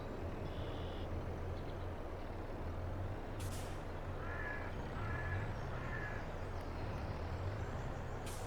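A semi-truck in the Farming Simulator 22 video game rumbles steadily with a low engine drone, broken by a sharp hiss of air brakes and a few cawing crow calls in the background.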